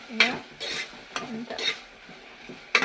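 Onions and ginger stirred in a hot pan for a fish curry, a close sizzle with several scraping, swishing strokes of the spatula and a sharp knock at the end, no talking.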